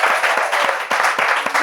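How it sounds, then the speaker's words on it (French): A studio audience at a Bible quiz final applauds, a dense, steady wash of clapping that swells and dips slightly in waves, loud and close throughout. "Il va s'agir de les soutenir avec des applaudissements."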